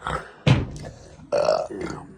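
Two loud, close burps with a short pause between, the second longer and more drawn out, after a meal of McDonald's food.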